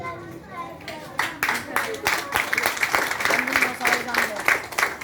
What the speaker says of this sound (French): Et je vous demande encore de les applaudir pour leur boulot.